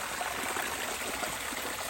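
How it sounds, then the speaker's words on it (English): Natural spring water trickling steadily along the edge of a road in Pennsylvania, a continuous close, even rush and babble with no voices over it. "This is a natural spring just along the edge of the road."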